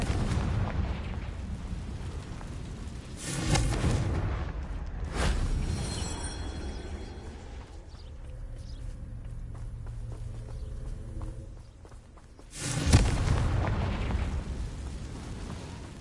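Fiery explosions from the Confringo spell in the game Hogwarts Legacy, a loud continuous rumbling roar with several sharp booming bursts, the last one near the end.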